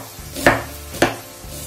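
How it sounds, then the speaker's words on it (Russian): A knife cuts a large onion into quarter rings on a cutting board, giving two crisp, close chops about half a second apart against a quiet kitchen background. "Одну большую луковицу нарезаем четверть кольцами."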